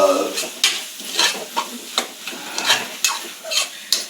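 Rice being fried in a pan for vangi bath: regular spatula scrapes about twice a second over a low sizzle, near and fairly quiet, with no talking.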